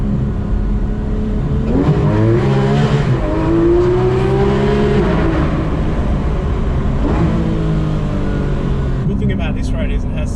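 A Porsche GT3RS sports car accelerates on a waterside road, its engine note rising and falling through revs inside the cabin, with occupants talking over it.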